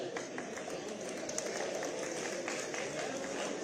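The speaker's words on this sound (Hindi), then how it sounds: "आप सभी से अनुरोध है तालियां बजती रहें।" An audience at a government job appointment ceremony in Dehradun applauds in a dense, continuous, fairly distant patter of clapping, with faint murmuring underneath.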